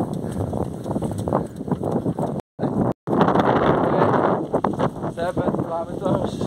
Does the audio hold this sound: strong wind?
yes